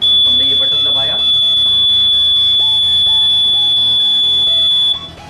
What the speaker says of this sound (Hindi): और लंबी एक बीप की आवाज़ सुनाई देगी।